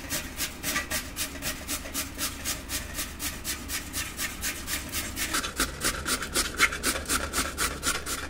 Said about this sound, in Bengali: এবার এইটা দিয়ে আলুটা ঘষে নেব